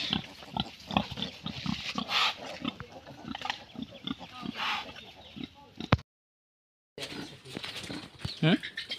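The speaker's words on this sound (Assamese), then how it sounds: "ইয়াতে মানে 14টা গাহৰি পোৱালি আছে" About fourteen piglets in a pen, on a farm dealing with swine fever vaccination, grunt and squeal continuously at close range. The noise drops out briefly, then resumes with sharper squeals.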